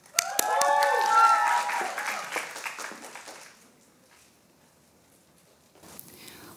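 Audience applause at a Korean-language speech contest in Toronto greets a university student contestant; a dense burst of clapping runs for about three seconds, then fades to quiet with murmuring before a voice begins.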